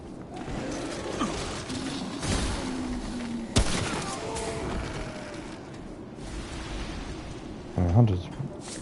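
Hunter's rifle firing in the video game Remnant: From the Ashes, a few sharp reports spaced across a busy game soundscape with a heavier boom near the end.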